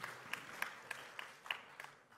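Faint, scattered hand claps in a hall during a speech by the governor of Bali, a few separate claps at a slow, uneven pace, quiet and distant rather than a full round of applause.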